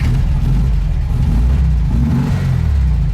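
VW Beetle air-cooled engine fitted with a Weber 34 ICT carburetor, running close by with a steady low rumble that swells slightly as it revs, alone without talk.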